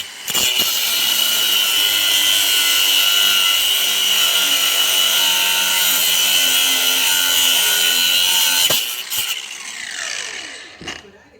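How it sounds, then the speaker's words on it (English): A handheld angle grinder cuts through a bolt on a tractor water pump with a loud, steady high-pitched whine, then winds down as the cut ends. "So we get the handy grinder and we cut said bolt."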